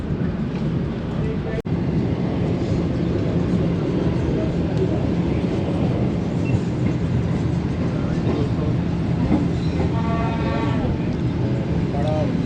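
The 28 Down Shalimar Express approaches Okara railway station with a steady rumble and hum, mechanical tones emerging near the end. Someone talks over the sound.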